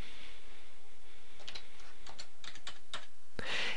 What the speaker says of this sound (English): And then I'm going to type in minus 200